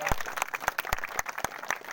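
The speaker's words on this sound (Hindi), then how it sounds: "तालियां बजती रहनी चाहिए।" Scattered, uneven hand claps from a small audience at a Hindu puja ceremony, with a few distinct loud claps standing out over faint background voices and room noise.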